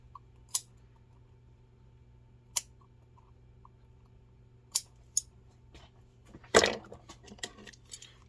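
Leather welt of an old dress shoe being cut at an angle with a blade: a few sharp, isolated snips spaced seconds apart, then a louder rasping cut near the end, close and otherwise quiet.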